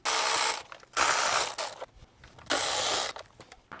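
Ratchet wrench loosening 10 mm bolts on the ignition coils of a Toyota/Lexus 2GR-FE 3.5L V6, several close, loud bursts of rapid clicking separated by brief pauses.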